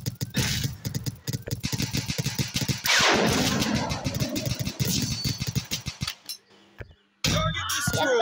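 Video game combat with rapid bursts of automatic gunfire and a heavy blast as a grenade is thrown, loud and dense, ending in a quieter gap before the firing resumes.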